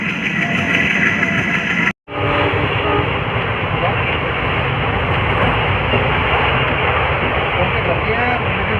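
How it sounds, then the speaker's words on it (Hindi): A diesel locomotive-hauled train runs steadily, a loud broad rumble and roar that cuts out briefly and resumes, with people talking nearby. "डीजल लोकोमोटिव है फिलहाल"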